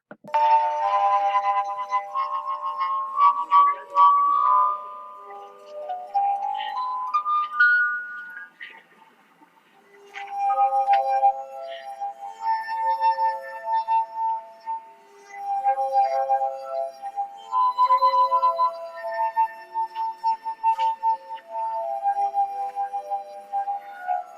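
Singing wine glasses played by rubbing their rims, carrying a melody as sustained, pure ringing tones that glide from note to note, with a brief pause midway before the tune continues.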